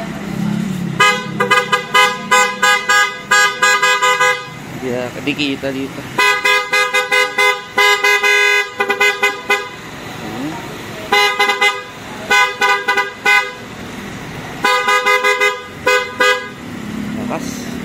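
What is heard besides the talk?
Senlo X1 Plus MDL horn on Motorstar Easyride 150RS motorcycle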